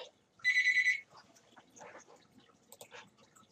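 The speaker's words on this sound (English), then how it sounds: "Sorry about that, my phone was ringing." A mobile phone rings in a short burst of repeated electronic tones at close range, followed by rustling and faint room sounds without speech.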